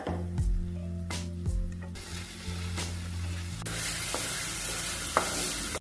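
Onion, garlic and curry leaves fry in a pan of oil for bhindi masala, giving a steady close sizzle broken by a few scraping stirs of a spoon against the pan.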